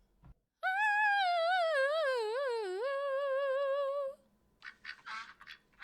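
A loud duck quack sound effect plays as one long, wavering, drawn-out call lasting about three and a half seconds. Brief talk follows it.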